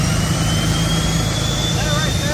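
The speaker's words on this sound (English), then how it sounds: "That right there is like 1500 horsepower that definitely escapes the cops, and it sounds like a fucking jet." A second-generation Cummins diesel truck engine built to about 1500 horsepower roars loud and close in a steady, unbroken jet-like blast with a high whine on top, filling the whole stretch.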